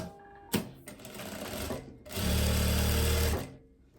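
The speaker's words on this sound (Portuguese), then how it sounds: "Eu vou passar uma costurinha aqui." A sewing machine with a standard presser foot stitches tailored blazer fabric, starting with a sharp click and light intermittent runs before a loud, fast, continuous burst of stitching that then stops.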